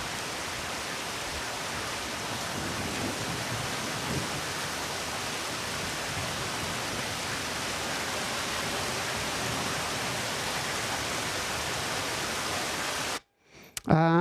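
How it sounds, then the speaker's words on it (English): Steady, dense rain hisses evenly for a long stretch, a broad wash of falling water with no pauses, before cutting off suddenly. "And I started with the sound of rain because it looks kind of wet."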